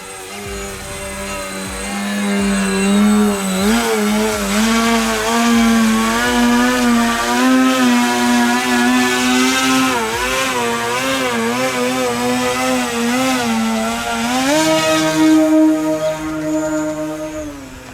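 A Flex Innovations Twin Otter 80E electric RC plane hovers with a loud, steady buzzing motor drone that slides up and down in pitch as the throttle shifts, rising sharply near the end.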